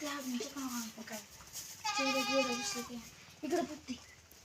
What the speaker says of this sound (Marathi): बघा सोन्या बोकड कसा आहे आपला